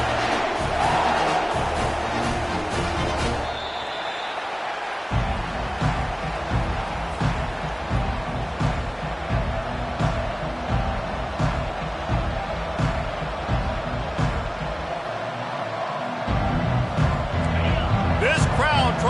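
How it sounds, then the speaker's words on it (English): A Texas A&M football stadium crowd roars steadily at the start of a game, a dense sustained wall of cheering heard under a commentator's continuous talk. "This crowd trying to show them what it's going to be like all day in this house."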